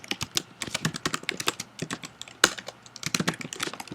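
Rapid, light tapping on a computer keyboard while HTML code is typed, a close, quiet run of irregular key clicks with an occasional louder keystroke, with no talking.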